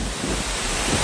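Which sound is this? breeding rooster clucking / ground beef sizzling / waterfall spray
waterfall spray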